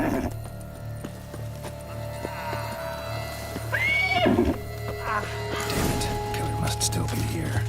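Roach, the horse from The Witcher 3, gives a rising whinny midway through, with hoofbeats and game ambience running beneath and speech over parts of it.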